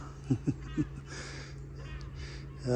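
Seagulls call on the seafront at Canet-en-Roussillon around feeding time. Three harsh, cawing cries ring out close together at the start, then fainter calls follow over a low steady hum.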